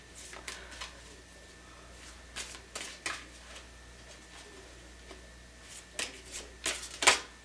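A tarot deck shuffled by hand at close range to draw a clarifier card, giving scattered soft riffles and flicks that end in a sharper slap of cards, over a quiet background with a faint steady hum.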